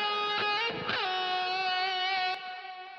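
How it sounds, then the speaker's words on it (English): Sustained high-gain electric guitar lead with stacked harmonics, a bent note near the start, then repeats of a stereo delay fading away underneath; clear and fairly loud with no talking. "let's have a listen to the delay on that"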